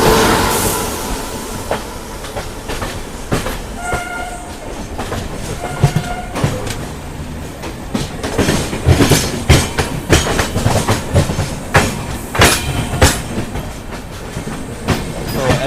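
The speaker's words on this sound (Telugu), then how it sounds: "సో ఈ పక్క చూసుకుంటే ఏదో ట్రైన్ అయితే వస్తుంది" A train passes near the Chennai Central line, its wheels beating a loud, rhythmic clickety-clack over rail joints that builds and stays dense through the long pass.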